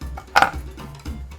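Cardamom pods crushed on a board, a couple of short firm cracks and knocks in quick succession, close and alone.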